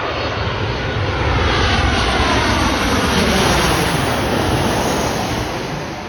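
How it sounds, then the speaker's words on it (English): A United Airlines Boeing 737-724 jet landing at O'Hare roars loud and close, its broad engine rush swelling and fading as it passes over, with no talk. "That plane's landing over there on runway 9 left."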